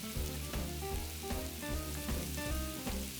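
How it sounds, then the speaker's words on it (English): Sausage sizzling and browning in a pan while being broken up, a steady close frying crackle with faint scraping stirs, no talking. "you just wanna break up the sausage as it's cooking and while it's browning"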